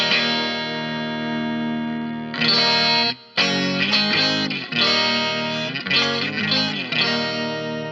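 An electric guitar plays sustained chords and short phrases through a Rangemaster-type treble boost, sounding bright and slightly gritty with brief pauses between strums.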